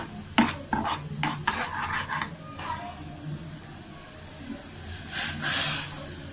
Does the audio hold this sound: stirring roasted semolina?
yes